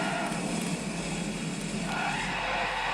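Tires skidding and squealing as a V10 BMW drifts in the Forza racing game, with a steady, continuous screech over engine noise throughout.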